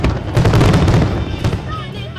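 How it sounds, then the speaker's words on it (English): Fourth of July fireworks at Patriots Park in Charleston, South Carolina: dense, continuous booming and crackling bursts, loud and close, with a crowd murmuring underneath. "America knows fireworks."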